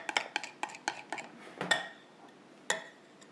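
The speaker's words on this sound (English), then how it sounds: "I'm using a flat knife to mix it up, just to get any lumps out of there" A flat knife stirring a mixture in a bowl, producing a quick run of light clinking taps against the bowl, then a pause and a final single clink, close and fairly quiet.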